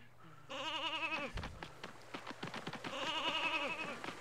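In the N64 game Space Station Silicon Valley, a robotic sheep lets out two wavering, nasal bleats, near and fairly loud, with a patter of game clicks and thumps in between.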